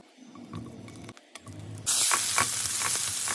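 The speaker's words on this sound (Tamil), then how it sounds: "ஒரு கடாயில் எண்ணெயை ஊற்றி தக்காளி வதக்கிங்கோ." Tomatoes dropped into hot oil in a kadai: quiet clatter first, then a sudden loud, bright hissing sizzle that bursts in near the midpoint and carries on strongly to the end.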